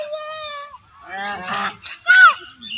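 Geese honk loudly and close by in an open field, giving a few drawn-out, nasal calls one after another, with no other sound competing.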